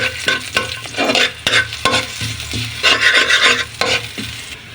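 Onion, garlic and alugbati stirred while frying in oil, with a steady close sizzle and repeated scraping, clattering strokes of the spoon through the pan.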